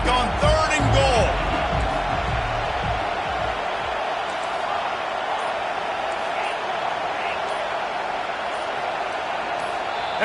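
A stadium crowd roars at a football game on third and goal, a loud, steady wall of noise that holds throughout, with a brief burst of voices and thuds at the start.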